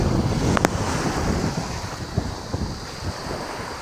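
Strong typhoon wind roars steadily across a microphone during a storm with light rain, with surf and water noise underneath and a couple of brief knocks near the start.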